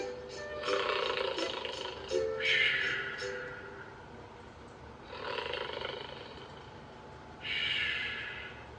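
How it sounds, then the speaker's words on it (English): A man snores in slow, raspy breaths, several rough inhales separated by quiet pauses, close and fairly soft. "In another room, a man was taking a nap and snoring."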